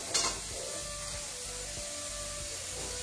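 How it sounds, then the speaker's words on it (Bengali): Luchi, puffed fried bread, sizzles in hot oil with a soft, steady crackle and hiss that stays quiet and even throughout, with no voices. "আর যেটা আমি ভাজছি ফুলকো ফুলকো লুচি কিন্তু হচ্ছে, মানে লুচিগুলো ফুলছে"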